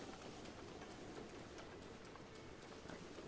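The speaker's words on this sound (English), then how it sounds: "Now it's actually raining so hard I can't see anything." A faint, steady wash of heavy rain hisses continuously, a constant patter with no pauses, in The Legend of Zelda: Breath of the Wild.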